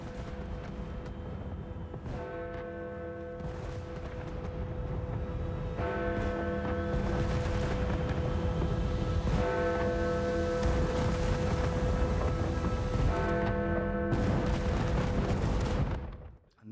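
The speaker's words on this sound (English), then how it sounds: "welcoming the new year with fireworks on the banks of the River Thames" New Year fireworks over the River Thames in London: dense, continuous booming and crackling bursts in a sustained barrage, with tonal layers over a steady loud roar for the whole stretch.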